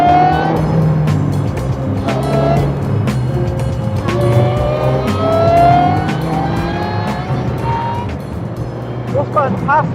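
A supercharged Ariel Atom 300 driven hard on the road, its engine loud and near with rising and falling revs through repeated gear changes, plus a brief tire squeal late on.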